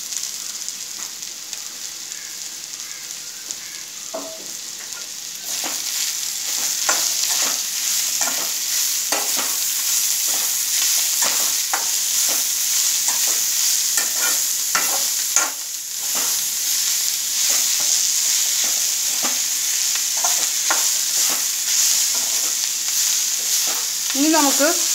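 Ivy gourd (kovakka) frying in oil with chopped onion, for a chilli fry, a loud steady sizzle that carries on throughout while a utensil scrapes and stirs the pan again and again, close by.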